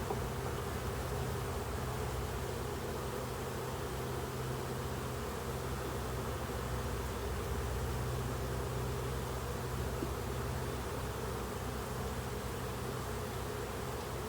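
Honeybees buzzing around hive frames during a removal from behind a dryer, a steady dense drone of many insects close by, continuous and without talk.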